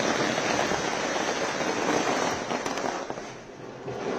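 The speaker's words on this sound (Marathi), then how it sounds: "भाजप कार्यालयाच्या समोर ही फटाक्यांची आतषबाजी" Firecrackers go off outdoors in front of a BJP office during a political celebration, a dense, continuous crackle of rapid pops that thins slightly toward the end.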